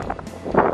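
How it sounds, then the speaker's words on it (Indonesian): Strong wind gusting across a microphone outdoors in a rice field while a small, colourful Balinese cotek kite is flown, a brief rushing buffet that swells louder near the end with no talking. "Jadi ini angin banternya banget"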